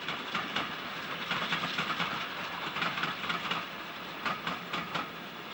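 A steam-hauled train, 7F 53809 piloting West Country 34040 Crewcomb on the Manchester-to-Bournemouth service, rattles by at moderate distance with continuous rail noise and rhythmic wheel clatter, no talk.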